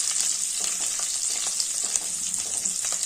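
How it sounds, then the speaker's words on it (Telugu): Garlic sizzles steadily in hot oil, fried until red as the base for a broad bean curry, with a dense, even crackle throughout and no voices. "ఎర్రగా వేయించుకోవాలండి, బాగా రెడ్గా వేయించుకోవాలి."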